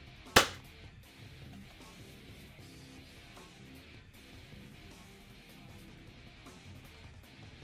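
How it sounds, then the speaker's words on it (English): One sharp crack from an Adventure Force Nexus Pro foam dart blaster, firing close by, followed by a quiet room. "Its first shot was 153 FPS on a blaster that you can buy from Walmart."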